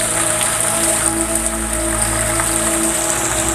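Heavy rain pours down steadily in Cibeber, a dense and constant loud hiss with a low droning hum underneath and no break throughout.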